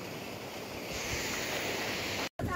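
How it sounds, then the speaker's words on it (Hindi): Small jungle waterfalls along the Adrai trek near Malshej Ghat give off a steady broadband rush of falling water, constant and moderately close, cut off abruptly near the end. "तो ऑन द वे देखिए वाटरफॉल है छोटे छोटे"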